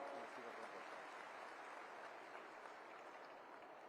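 An audience at a government event in Haryana applauds steadily, sustained clapping that fills the whole stretch and fades slightly toward the end.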